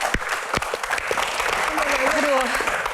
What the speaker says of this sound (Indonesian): tepuk tangan untuk dokter Boyke